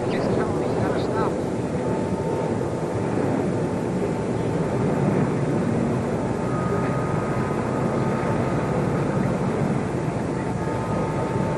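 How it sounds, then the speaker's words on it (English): A plane drones overhead at a 1963 outdoor gathering in November, a steady broad rumble with a faint tonal hum persisting throughout, loud and unbroken, with voices murmuring underneath. "the only noise that of a plane"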